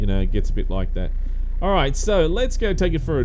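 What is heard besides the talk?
No everyday noise stands out behind the speech.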